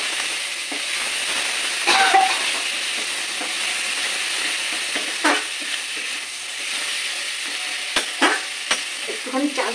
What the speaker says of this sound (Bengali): গোবিন্দভোগ চালটা দিয়ে আবার মশলাগুলোর সাথে আমি একটু ভালো করে কষিয়ে নেবো।